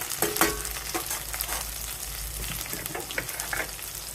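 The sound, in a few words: curry leaves added and frying in pan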